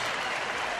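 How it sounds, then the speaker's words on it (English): Baseball stadium crowd applauding during a big-league game, a brief wash of dense clapping heard at a distance. "Gets a round of applause."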